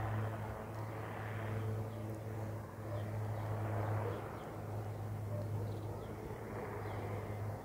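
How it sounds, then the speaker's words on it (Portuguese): A twin-engine propeller airplane builds power for takeoff at Sorocaba airport, a steady humming drone with swelling engine roar at moderate distance, continuous throughout. "Olha só, os motores roncando um pouquinho mais."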